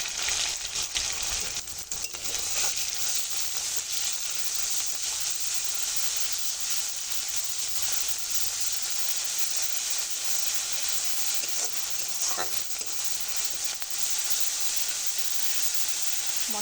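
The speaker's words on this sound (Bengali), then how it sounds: "মশলাটা আমার খুব ভালো করে তেলে ভাজা হয়ে গেছে" A paste of ground onion and cumin with turmeric, salt and dried chilli frying in oil in a pan, giving a steady, close sizzling hiss that carries on evenly with faint stirring and no talk.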